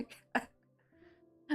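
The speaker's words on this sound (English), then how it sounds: "Someone's grandma's having a coughing fit outside." An older woman coughs outdoors in a couple of harsh, separated bursts, with quiet gaps and faint background hum between them.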